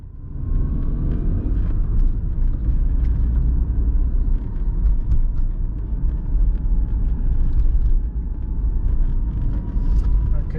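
Car driving through Amsterdam streets, heard from inside as a steady low engine and road rumble, with people talking over it.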